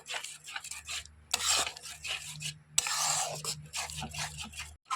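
Milk powder being stirred into milk kheer in a pot, with close, rhythmic scraping and rubbing of a spoon against the metal, coming in two longer, louder bursts among lighter strokes, no talking.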